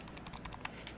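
Rapid left mouse clicks during a Planet Coaster zoo-building session, about eight or nine sharp, close ticks in quick irregular succession over a faint background hum, with no voices.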